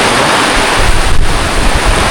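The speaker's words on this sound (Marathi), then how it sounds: "जोरदार पावसाला सुरुवात झाली," Heavy rain driven by strong wind near Pen, a loud, constant roaring wash with blustery wind buffeting the microphone, no voices.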